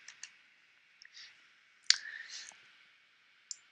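Computer mouse clicks while working in Maya, a handful of soft, sharp clicks spread apart with quiet gaps between them, close and faint.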